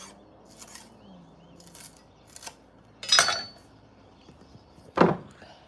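Kitchen scissors snip through a bunch of fresh parsley gathered like a bouquet, giving a few faint light snips and then two louder, crisp cuts up close, with no speech.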